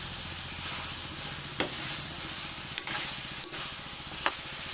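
Squash (kalabasa) sizzles steadily as it is stir-fried in a pan, a continuous close hiss with a few sharp scrapes and clacks from the stirring utensil at irregular intervals.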